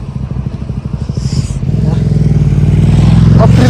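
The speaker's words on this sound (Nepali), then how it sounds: "अप्रिलिया बाइक है गाइस, अप्रिलिया।" An Aprilia motorcycle passes on a Barcelona city street, its engine swelling from a lighter clatter into a loud, close, sustained roar in the second half.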